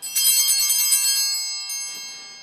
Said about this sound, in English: When the consecration is complete, the priest genuflects, ring the bell 1 time.